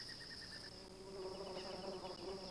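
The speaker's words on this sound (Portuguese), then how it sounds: "Em segundos, um grupo de vorazes moscas aparece, absorvendo a pegajosa seiva até que se cicatrize." A swarm of hungry flies feeds on sticky white sap oozing from a damaged tree, producing a steady, close, layered buzzing that continues throughout with no voices.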